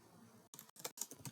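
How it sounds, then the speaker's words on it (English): Keyboard keys being typed in short clustered bursts separated by brief pauses, close and fairly quiet, while drafting a table in AutoCAD. "so I'm typing"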